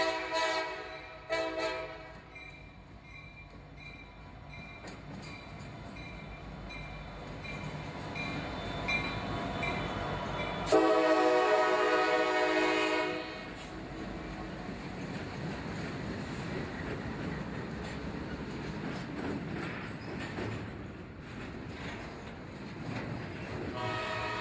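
A fast 60 mph intermodal freight train rumbles through Conneaut, Ohio, with continuous wheel and rail roar throughout, a loud horn blast in the middle and clacking cars rolling past afterward.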